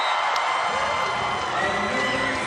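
A large arena crowd cheers and roars during a women's club volleyball match between VakifBank Istanbul and Bangkok Glass, a steady sustained wash of voices with a few higher whoops.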